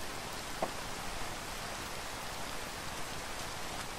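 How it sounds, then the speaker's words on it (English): Steady rain falls in a video game, a continuous even hiss of drops filling the whole stretch with no voices over it. "I'm the only idiot out in the actual rain."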